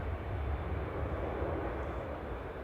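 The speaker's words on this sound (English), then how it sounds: "TUI flight 2666 to Ibiza departing there." A TUI passenger jet departs Manchester Airport on a flight to Ibiza, giving a steady, broad low engine roar that holds evenly at moderate distance throughout.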